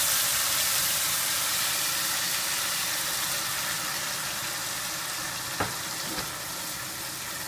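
A tomato, onion, ginger, garlic and chili puree fries in hot oil with a steady, close sizzling hiss throughout, and two faint pops come near the end.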